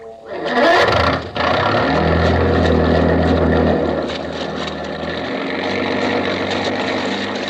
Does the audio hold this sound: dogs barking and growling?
no